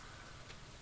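Soft, even patter of rain in Stardew Valley, a faint continuous hiss of falling drops with no voices over it.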